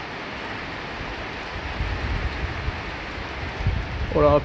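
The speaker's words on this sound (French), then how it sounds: "ça commence à pleuvoir" Rain begins falling on a terrace during a strong thunderstorm, a soft steady patter that thickens toward the end, with a brief voice at the very close.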